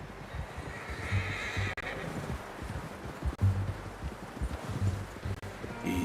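A horse in Red Dead Redemption 2 gives a clear neigh and whinny, alongside soft hoof clip-clops and faint rustling in an outdoor game setting, with no talk.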